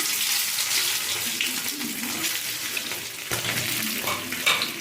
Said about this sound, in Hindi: अब हम इसमें एक एक करके सारे आलू को अच्छे से फ्राई करेंगे।